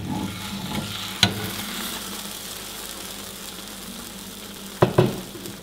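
Food fries in a pan with a soft, steady sizzle. Two sharp metallic clanks, one early and one near the end, cut through it, with no voices.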